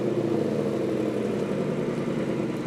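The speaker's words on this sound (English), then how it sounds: "This is the factory exhaust on quiet mode." A Ford Mustang S550 (2015+) with its factory exhaust in quiet mode idles steadily with a low, even rumble, no revving, heard close and continuous throughout.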